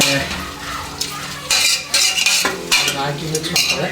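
Potatoes and salt being stirred into pulao in a pot, with a spoon scraping and clanking against the metal in repeated strokes over a soft sizzle, close and loud, with no talking.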